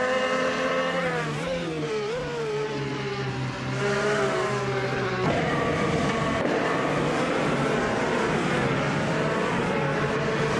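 Honda Indy car racing past, engines holding a loud, continuous drone with rising and falling pitch sweeps as cars accelerate and pass, steady without pause.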